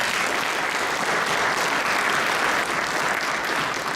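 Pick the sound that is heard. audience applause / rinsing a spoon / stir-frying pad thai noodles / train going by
audience applause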